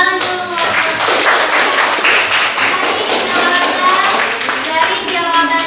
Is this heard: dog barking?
no